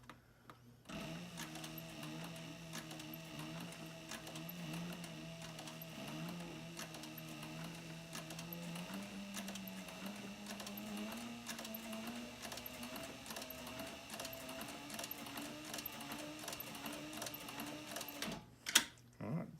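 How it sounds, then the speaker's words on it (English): A sewing machine stitches a dopp kit in one long, steady run of whirring and rapid ticking that shifts slightly in pitch. It stops abruptly near the end, followed by a brief clatter. "be careful if you're using a sewing machine"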